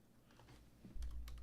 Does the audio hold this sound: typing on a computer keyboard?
yes